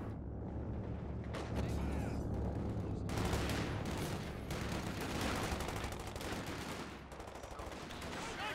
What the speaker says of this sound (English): Bring his 50 cal out. That can do some damage to it when the armor-piercing rounds are equipped.